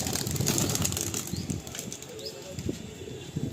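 A black pigeon is released from a loft, and its wings beat in a close, rapid flurry that fades as it flies off into faint outdoor ambience.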